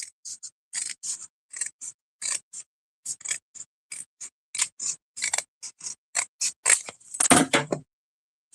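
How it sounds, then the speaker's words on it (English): Scissors trim a small piece of paper in a run of short, crisp snips, close and rhythmic, followed by a longer crunching cut near the end, with no talking. "I'm going to just trim a little bit here"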